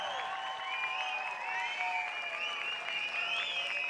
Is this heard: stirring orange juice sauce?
no